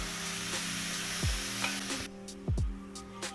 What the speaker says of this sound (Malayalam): ഞാൻ നെയ്യിലേക്ക് തന്നെ നമുക്ക് എടുത്ത് വെച്ച റവ ഇട്ട് കൊടുക്കാം